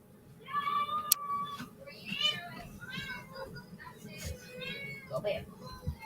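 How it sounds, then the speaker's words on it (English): Household pet cats meow in a string of short, rising cries, fairly close, with people talking over and between them. "Put the cats in the bathroom."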